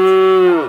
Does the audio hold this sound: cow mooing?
yes